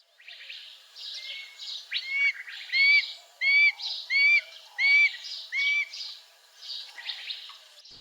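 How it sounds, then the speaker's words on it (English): Red-tailed hawk nestlings give a series of thin, high peeping calls, repeated in short bursts of several notes over about eight seconds, clear and fairly close with no talking. "their nestlings make little peeps"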